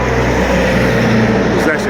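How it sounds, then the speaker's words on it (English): Steady traffic roars along a busy main road, with the heavy low rumble of big trucks filling the short stretch at a constant loud level and no clear gaps. "Where there's a lot of traffic, a lot of big trucks going."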